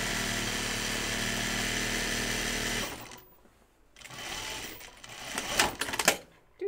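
Sewing machine stitching a caftan, a steady rapid mechanical whir for about three seconds before stopping, followed by quieter handling noises and a few scattered clicks.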